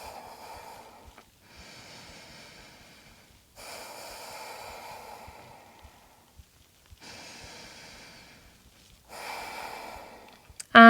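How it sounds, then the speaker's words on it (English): Slow, deep breaths during a yoga bind pose: long, airy inhales and exhales in a calm rhythm, close and moderately soft, separated by brief quiet gaps, with no talking. "Take a few deep breaths here."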